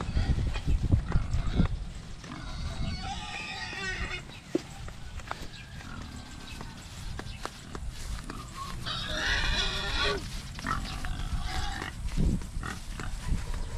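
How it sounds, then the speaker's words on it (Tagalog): A pig at a rural Philippine clearing squeals in shrill bursts over a busy outdoor background, with people talking nearby. "Kaingay na naman ng baboy mo."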